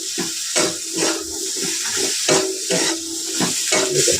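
Bottle gourd being stirred in a cooking pot, a close rhythmic series of wet scraping and sloshing strokes over a soft sizzle, repeating every half second or so.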